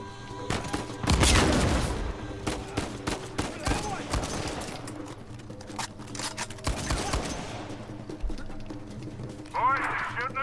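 Gunfire in the action video game Uncharted 4, with repeated sharp shots and bursts scattered through the scene over game music and effects, while a person talks throughout.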